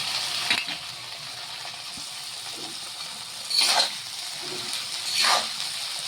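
Capsicum, carrot and cabbage stir-frying with ginger and chilli in a pan for a Chinese-style dish, a steady close sizzle with two louder surging hisses as the vegetables are tossed, plus a couple of light knocks.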